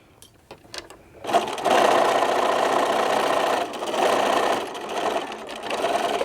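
A sewing machine with a zipper foot stitching forward, then briefly backstitching, its needle humming in a steady whirring run after a few light clicks, close and fairly loud with a short pause midway.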